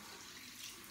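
Hot water runs steadily from a tap over a black shaving brush, making a continuous soft hiss and splash at low level with no talking.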